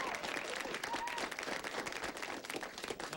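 Audience applause from a crowd greeting a CNN White House correspondent, a dense steady wash of many hands clapping at moderate loudness, continuous for a few seconds without pause.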